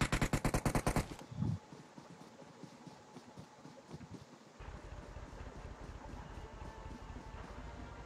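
Bursts of automatic gunfire in PUBG Mobile during a competitive esports league match, a rapid loud volley at the start followed by sparser, quieter shots under steady ambient game noise.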